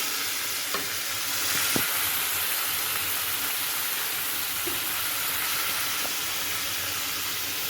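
Water from rinsing a mixer jar of ground mustard is splashed into a bata fish mustard curry sizzling in the pan, giving a steady broadband hiss and bubbling with a few sharp splashes, close and fairly loud, with no talking.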